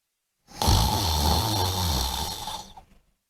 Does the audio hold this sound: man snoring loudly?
yes